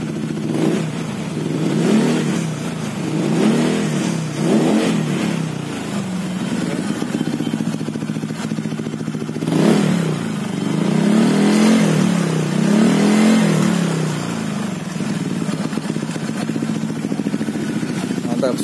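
A Honda PCX160 scooter with an aftermarket exhaust is revved repeatedly, with a deep engine note swelling and falling in several bursts, close by, and a voice briefly audible.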